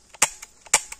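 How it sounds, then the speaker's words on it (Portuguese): A Rossi R8 air carbine fires in quick succession, each shot a sharp, loud crack with fainter clicks of the action between them, close by. "Vou dar 8 tiros assim, ó,"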